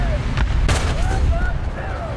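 A short burst of War Thunder gunfire, with a few sharp reports and a rumbling backdrop under a talking voice.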